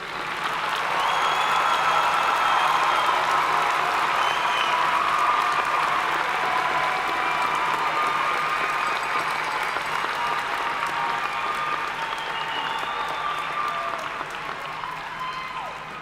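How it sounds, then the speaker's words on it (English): Audience at a Miami University fall commencement applauding the 2021 graduates: a broad, sustained roar of clapping from a large crowd, steady for most of the stretch before easing slightly near the end. "Let's give a bigger round of applause for these 2021 graduates."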